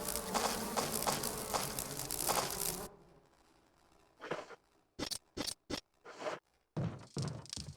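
Insect swarm sounds from the Resident Evil 1 video game: a dense, loud buzzing drone that cuts off abruptly, followed by a series of short, sharp buzzing bursts separated by brief gaps.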